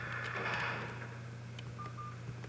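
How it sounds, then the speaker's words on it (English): A phone gives faint electronic dialing tones, two short beeps near the end against a steady low hum and quiet background noise, with no talk. "That's my phone."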